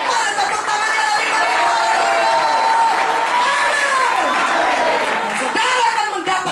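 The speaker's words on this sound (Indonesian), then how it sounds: "Mana tepuk tangannya lagi?" A crowd at an Indonesian evangelistic revival service claps with cheers and whoops mixed in, a dense continuous roar with rising and falling voices above it, loud and close for over six seconds.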